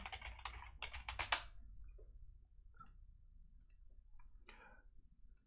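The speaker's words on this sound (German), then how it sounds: "Da hat man auch ein Passwort eingeben." Keys clatter on a computer keyboard as a password is entered, with a quick burst of close, crisp keystrokes followed by sparser, fainter clicks over a quiet background.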